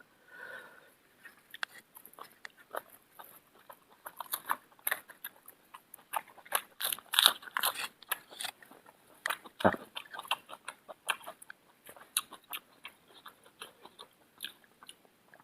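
Close chewing and biting of raw beef koi salad with fresh vegetables, a steady run of moist crunchy bites and mouth clicks with no talking.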